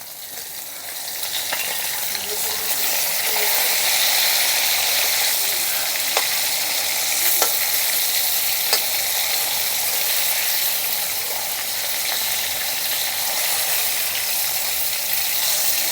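Shol fish pieces frying in hot oil: a continuous dense sizzle with scattered sharp pops and light utensil scrapes, holding a steady loud level throughout.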